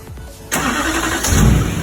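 A Duramax LLY diesel engine in a GMC Sierra or Chevy Silverado pickup cranks and catches about midway, then settles into a loud, steady close-up idle with a rising rumble near the end.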